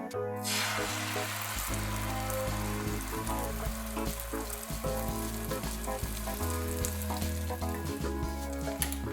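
Loud, steady sizzling as beaten egg fries in hot mustard oil, a dense crackling hiss that continues without pause, with no voices.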